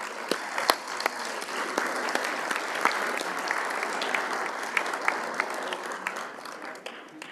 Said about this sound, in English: Let's give the BSU another round of applause.